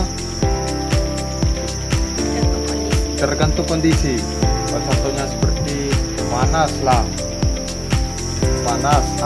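Crickets kept on a cricket farm chirp steadily and close by, a shrill, rapid pulsing trill that runs through the whole stretch beneath a person talking.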